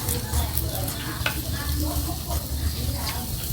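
Pork sizzling loudly on a Thai mookata grill, a close, dense, continuous crackle and hiss with occasional stirring scrapes, voices faintly in the background.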